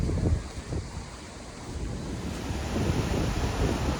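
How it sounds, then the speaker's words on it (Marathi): Ocean waves crash against rocks on a rainy Konkan coast, a continuous broadband roar with surging swells and wind buffeting the microphone, no voices. "पलीकडून लाटा येऊन दगडांना आपटत आहेत"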